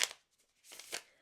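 Tarot cards riffled in a quiet room during a card reading, two short papery bursts of shuffling separated by a brief pause, close and soft with no talking over them.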